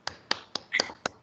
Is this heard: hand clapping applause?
yes